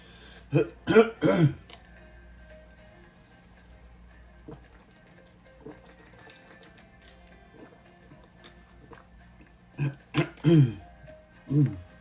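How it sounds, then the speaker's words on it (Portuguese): A person clears their throat a few times in short rough bursts, then a quiet stretch with faint small clicks, followed by another cluster of throat clearing. "Nossa, tô com um pigarro na garganta."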